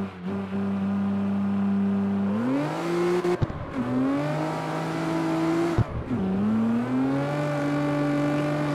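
A car engine in CarX Street on PC revs hard on a test drive, with a steady high drone that climbs through the gears, briefly drops at each shift, and returns to a strained whine, with no talking.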